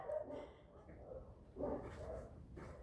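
Faint dog barks and yips sound from a distance in short bursts, thin and muffled against a quiet background.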